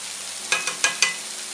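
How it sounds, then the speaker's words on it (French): Flour toasting in a pan over a pork sauté, the cooking liquid already boiled off: a steady soft sizzle with four quick stirring scrapes close together in the middle, no talk. "La farine, on la grille un peu."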